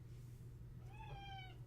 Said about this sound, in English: What's wrong, kitty?